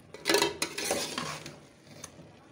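A spoon scrapes and clatters against a pot as carrot halwa is stirred and roasted, bursts of metallic scraping with a few sharper knocks and a faint sizzle underneath, close by and without speech.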